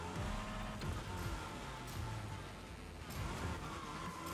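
A car engine in the Fortnite video game revs continuously while drifting, its tone rising and falling with sustained droning harmonics and no pause.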